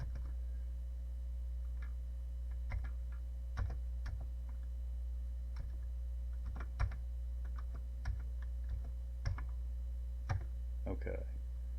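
Typing on a Commodore PET computer keyboard: sparse, irregular single keystroke clicks over a steady low electrical hum in a quiet room.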